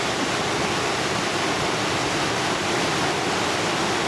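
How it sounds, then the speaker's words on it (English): Steady, full-bodied rush of water pouring over the river weir at Topcliffe Mill, a drop of about 10 feet, a constant broadband roar with no pauses, close and fairly loud. "This is Topcliffe Mill, and the weir."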